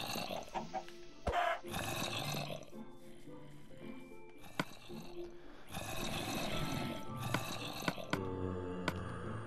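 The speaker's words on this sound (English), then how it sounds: "there's a chicken!" A video game chicken clucks in short bursts over game background sound, and a person talks throughout.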